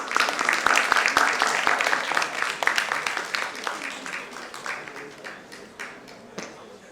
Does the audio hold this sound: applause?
yes